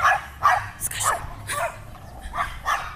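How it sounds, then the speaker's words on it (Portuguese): Dogs bark outdoors in the late afternoon, about half a dozen fairly close, moderately loud barks in an irregular rhythm, with no speech over them. "Os cachorros."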